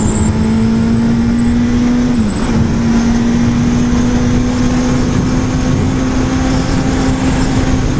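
A motorcycle rides along a road in warm weather, its engine droning loud and close with a steady tone that dips briefly, overlaid with constant wind and road rush and no voices.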